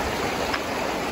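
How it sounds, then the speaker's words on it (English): Rushing water of a large river or creek along Alberta's Icefields Parkway, a dense continuous broadband roar heard close and steady for a brief moment. "It's gotta be a river."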